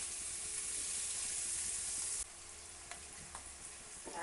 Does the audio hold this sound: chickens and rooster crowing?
no